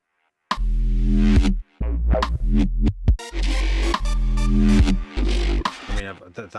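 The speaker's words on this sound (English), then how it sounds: "so there's the snare." A snare drum hits within a music production track, with punchy beats among bass and other instruments in a busy electronic groove, loud and rhythmic with short gaps between phrases.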